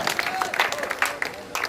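Audience clapping at a Hindi kavi sammelan poetry recital at the Maholi mela, a dense patter of claps with a voice and tonal sounds mixed in.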